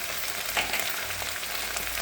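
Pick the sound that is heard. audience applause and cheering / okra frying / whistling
okra frying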